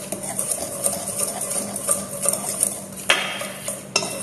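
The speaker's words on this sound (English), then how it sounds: "Using a whisk, I'm going to first whisk it up." A whisk stirs dry waffle mix of flour, ragi flour, baking powder and a little sugar in a container, giving quick rhythmic scraping and ticking against the sides with a couple of louder knocks, fairly close and without speech.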